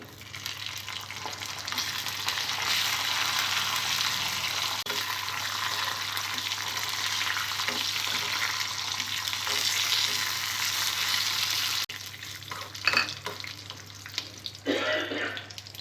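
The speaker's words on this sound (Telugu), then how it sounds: "పప్పులు కొద్దిగా ఫ్రై అయిన తర్వాత ఇందులో పచ్చిమిర్చి వేసుకోవాలి." Urad dal, cumin and green chillies fry in hot oil for a sorrel flower chutney, a steady close sizzle that holds evenly before quieter stirring scrapes and clinks near the end.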